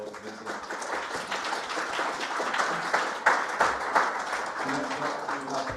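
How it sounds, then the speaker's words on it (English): Conference audience applauding a speaker named Vincent at a decentralised science event: steady, dense clapping from a room full of people, sustained at an even level for several seconds. "Another round of applause for Vincent."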